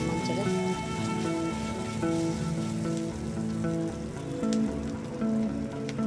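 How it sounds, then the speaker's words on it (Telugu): Drumsticks sizzling in oil in a pan with curry leaves while a tomato curry is cooked, a steady close crackle and hiss that runs throughout under a soft background tone. "అది కూడా ఫ్రై చేద్దాం మంచిగా."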